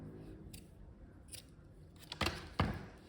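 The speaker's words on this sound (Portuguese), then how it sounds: "Vamos cortar esse fio." Scissors snip through crochet yarn used on a crochet backpack: a few faint clicks early, then two sharper, closer cuts near the end against a quiet room.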